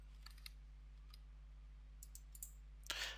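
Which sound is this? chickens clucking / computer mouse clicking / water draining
computer mouse clicking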